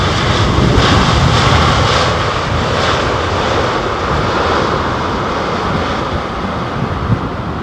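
Aircraft descending on approach to land at Heathrow, a loud continuous jet roar with a broad rushing wash and some wind noise, steady throughout with no voices.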